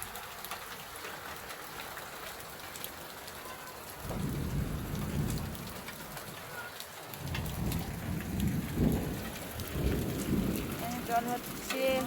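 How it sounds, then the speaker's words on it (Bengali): Heavy rain with hail pours down outside a home, a dense steady roar with deep thunder rumbles swelling in the middle and later, faint voices occasionally underneath. "দেখো এই দেখো কত শিল পড়েছে"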